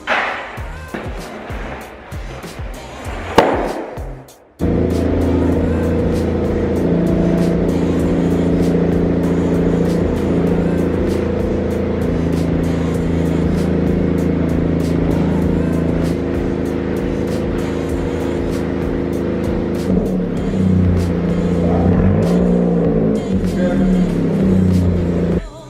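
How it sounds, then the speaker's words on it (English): A 10th-generation Honda Civic Si rolls onto race ramps with its engine running at a steady, close, loud hum, after a brief burst of scuffing noise at the start. "let's get the car pulled in and get it on some race ramps"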